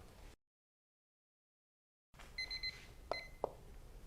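A cluster of high, bright electronic timer beeps rings out after a stretch of silence, followed by a couple of sharp clicks.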